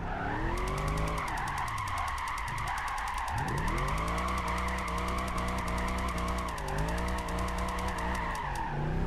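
A Mercedes C63 AMG drifting in Gran Turismo 5 gives a loud, continuous engine roar with long sustained tire squeal, revs dipping and rising as the car slides, and no talking.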